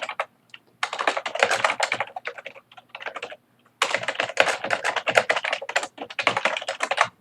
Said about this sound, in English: so you write your text